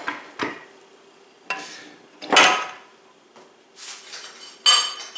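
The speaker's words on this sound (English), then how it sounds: "will whisk much easier if you use a wire whisk, which I'm going to do right now" A wire whisk beats eggs in a bowl, sounding as short scraping, clinking bursts of metal on the bowl that repeat at an uneven pace, close and fairly loud, with no talk.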